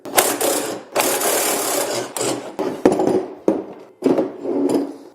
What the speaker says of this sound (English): And now it's time to go ahead and remove the spring compressor.